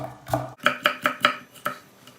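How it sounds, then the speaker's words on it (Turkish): A knife chops repeatedly on a board, about six quick, evenly spaced cuts, close and crisp, with no talking, slicing potatoes into thin strips. "Patateslerimizi yandan ince ince doğrayacağız."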